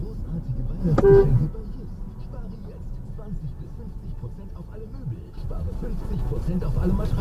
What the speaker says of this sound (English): A BMW is following our camera with too little distance, so Patrick is honking at him as he passes